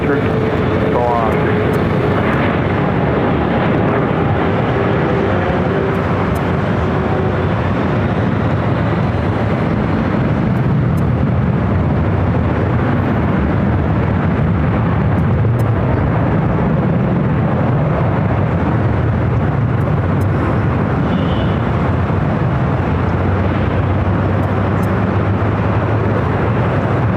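A Delta airliner takes off from runway 24 left at LAX, its jet engines producing a loud, steady roar that holds throughout, with radio and spoken chatter faintly over it.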